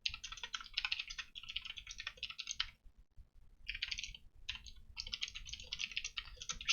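Computer keyboard typing as code is written, steady bursts of key clicks with a short pause in the middle, close and fairly quiet, no talking.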